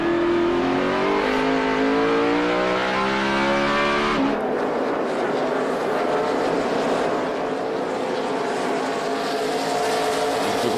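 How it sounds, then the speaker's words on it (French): NASCAR Sprint Cup stock cars race at the Sonoma road course in 2009, roaring engines sweeping up and down in pitch as cars pass and shift, then settling into a dense, continuous rumble with no voices. "On peut considérer que Matt Kenseth qui dépasse Jeff Gordon, déjà à Sonoma, ça n'arrive pas tous les jours"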